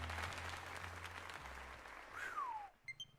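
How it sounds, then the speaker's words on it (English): Steady crowd applause in the video game Pokémon Legends: Z-A fills most of the clip, then cuts off, followed by a descending tone and a few short electronic chimes. "let us give another heartfelt round of applause to him"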